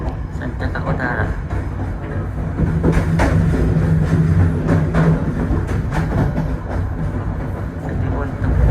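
Sancaka Utara passenger train running on rails, a steady loud rumble with rhythmic clatter throughout, with voices talking over it.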